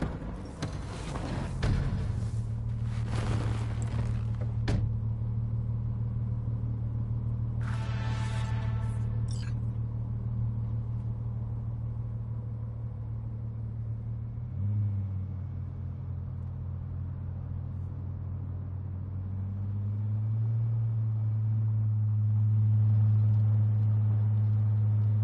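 A car driving through Night City in Cyberpunk 2077, a steady low engine drone that holds for long stretches, with a brief whoosh early and the revs rising slightly toward the end.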